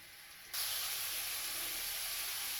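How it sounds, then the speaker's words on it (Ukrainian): Meat sizzling and frying in a hot pan in a home kitchen, a steady broad hiss that jumps louder after half a second and then holds evenly, close and continuous with no talk. "м'ясо майже обжарилося"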